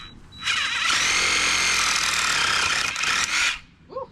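A power saw cuts through plastic drainage pipe outdoors at a log cabin, one loud continuous whining cut lasting about three seconds, close by, then spinning down.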